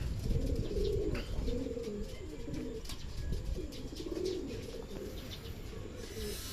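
Racing pigeons returning from a training flight coo in soft, repeated low phrases, close by and fairly steady, with faint chirps and background noise around them.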